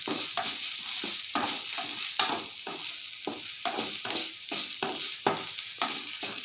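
Ingredients sauté in oil in a kitchen pan: a continuous close sizzle with regular scraping strokes of the stirring spoon every half second or so.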